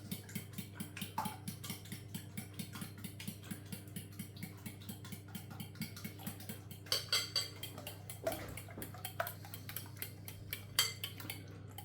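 A cheese, onion and tomato quiche filling with milk being mixed in a bowl, heard as steady, rhythmic clinking of a utensil against the dish, close and fairly quiet, with a few heavier knocks near the end.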